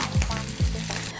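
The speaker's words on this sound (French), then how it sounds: "On termine la friture avec nos steaks sortis du réfrigérateur." Hamburger steaks fry in a pan with a steady, loud sizzle, and two brief low scraping stirs break through the hiss.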